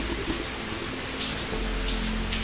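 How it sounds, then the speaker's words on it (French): Rain falling outside a holiday village house, a dense continuous hiss of drops with a low steady rumble underneath, heard from indoors and fairly quiet, no talking. "On entend bien la pluie."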